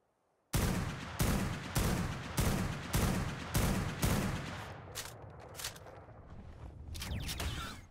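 Rapid volleys of gunfire in the Ark: Survival Evolved game, modded with Primal Fear and Extinction Core, during a Dark Griffin taming: six loud, evenly spaced bursts, then scattered shots and a rising rumble, with no talk.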